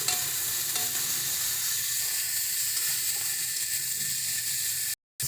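Onion paste fries in a pan for fish kalia, giving off a loud, steady sizzle and hiss with soft stirring scrapes, then cutting out abruptly just before the end.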